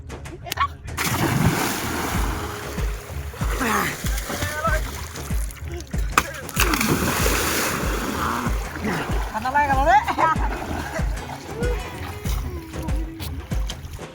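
People jumping and splashing into the Mahananda river while bathing, repeated close water splashes and churning amid lively shouting and chatter throughout.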